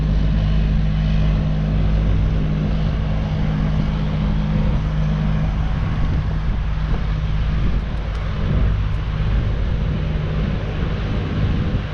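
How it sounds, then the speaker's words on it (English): Wind gusts at a harbour front, buffeting the microphone in a constant loud low rumble with a broad hiss over it, steady throughout. "The wind's starting to pick up now, so it don't take much."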